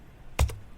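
A single quick pair of keystrokes on a computer keyboard, crisp clicks close up in a quiet room.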